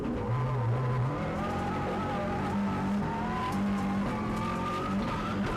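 A Mitsubishi Lancer Evo 6.5 Tommi Makinen Edition rally car races on a stage of the 2001 Monte Carlo Rally, its engine loud and droning as it rises and falls through gear changes, with tyre squeal.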